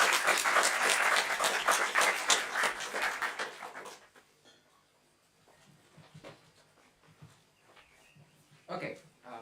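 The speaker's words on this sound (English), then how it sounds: "Just let's welcome him with a big applause." An audience at CESCG 2022 welcomes a speaker with a dense burst of applause that lasts about four seconds, then drops away to a quiet room with faint scattered shuffles.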